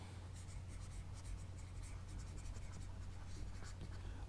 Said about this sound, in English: I'm going to go ahead and erase this now that I've done it